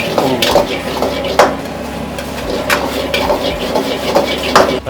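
Lemon mushroom cooks in a pan in a hotel kitchen, with steady sizzling and frying under repeated sharp clinks and scrapes of a utensil stirring against the metal.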